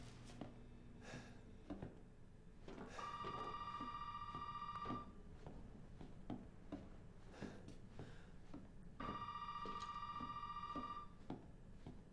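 Telephone ringing in the Resident Evil 7 video game: two long, steady electronic ring bursts a few seconds apart, fairly faint and distant over a low ambient hum with scattered clicks and footsteps.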